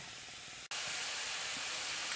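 Chopped dosakai and tomato cook in a pan over a low flame, giving a steady broadband sizzle and hiss with a brief dip before it resumes just as strongly.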